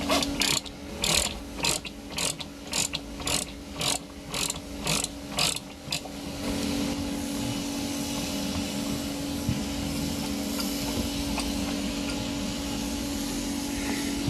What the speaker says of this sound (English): using an 8mm socket, you're then going to release these 2 bolts on both sides